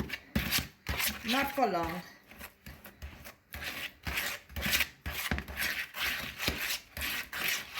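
Sugar and butter scraped and stirred together in a bowl for banana bread, with repeated gritty rubbing strokes in an uneven rhythm, close up, while someone talks briefly.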